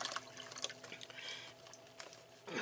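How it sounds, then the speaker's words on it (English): Great Value chicken broth poured from a 32-ounce container into a bowl, a soft trickling and dripping liquid sound, fairly quiet and close, with a few splashy bursts. "I've got a 32-ounce container of Great Value Chicken Broth. And that's going in this bowl."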